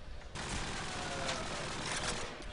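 Sustained automatic gunfire sprayed into smoke during a Call of Duty 4 LAN match, a dense continuous burst of rapid shots filling the whole stretch at steady close loudness.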